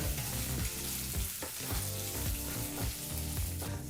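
Green chillies and four dried red chillies frying together in a pan for a healthy chutney, hissing and sizzling close by with stirring scrapes and clinks, steady throughout with no talk.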